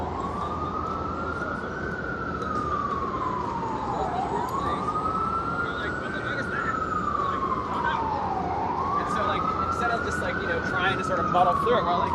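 An emergency siren wails in long rising and falling sweeps, repeating three times, moderately distant over steady street noise on a Manhattan night in New York City.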